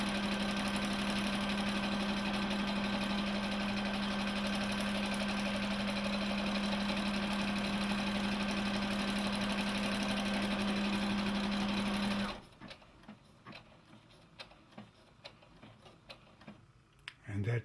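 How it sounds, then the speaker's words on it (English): A Brother combo sewing and embroidery machine runs a lock stitch with a steady, loud mechanical hum and rapid ticking for about twelve seconds, then stops, leaving faint clicks and handling sounds. "And that just did the lock stitch."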